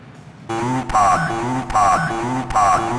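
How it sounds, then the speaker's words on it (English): A Korg Volca sampler retriggers a sample on every step while the start point sweeps through it, creating a time-stretch effect: a buzzy, stuttering tone that repeats in three short swells and pitch glides after a brief quiet start. "You can even do a time stretch effect by triggering the sample on every step,"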